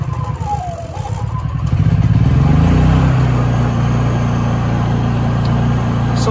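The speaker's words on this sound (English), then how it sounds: "Start this generator up. Again, it's 3000 watt Honda." Honda 3000 watt gas generator, choke out, starting up: a brief cranking stutter builds into a steady, loud mid-pitched engine drone that settles and keeps running close by.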